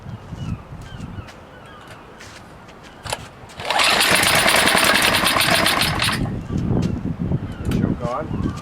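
A Tecumseh HSSK50 small engine, a little gas added, fires and runs for a few seconds with a loud, steady buzzing rattle, then drops back to quieter background sounds.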